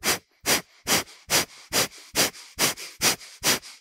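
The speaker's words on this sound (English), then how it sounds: "Inhale comfortably and exhale to begin." Rhythmic breaths are pushed out sharply through the mouth in a yoga breathing exercise, nine quick regular puffs about half a second apart, close and clear with no talking.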